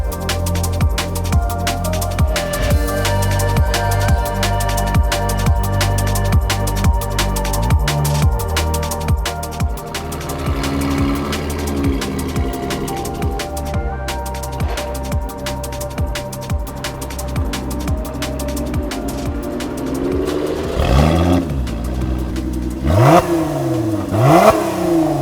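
Lotus Emira sports car fitted with a Milltek exhaust upgrade, heard outdoors as a steady engine note with rising and falling revs and a couple of sharp throttle sweeps near the end, loud and close with no talk.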